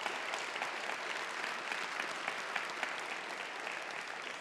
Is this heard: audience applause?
yes